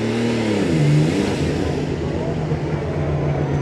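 Super Stock pulling tractor at a tractor pulling event in Füchtorf revving its engine at the start with some starting trouble, a loud rising and falling roar that settles into a steady rumble, with talk over it.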